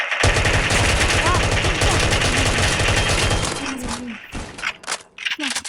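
Rapid automatic gunfire in the Minecraft video game rattles loudly and continuously for several seconds, then breaks into scattered shots and thuds, with some game sounds mixed in.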